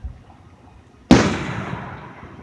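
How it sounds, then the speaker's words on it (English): A single firework bursts at a Fourth of July celebration, a sudden sharp boom after near silence that decays into a long crackling rumble. "today we are still looking at these fireworks"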